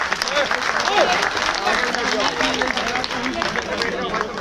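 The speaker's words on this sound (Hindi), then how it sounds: "इसलिए एक बार जोरदार तालियां आप अपने लिए बजाइए।" A crowd at a political celebration claps loudly in a dense, sustained burst, with cheering voices and excited chatter mixed into the ovation.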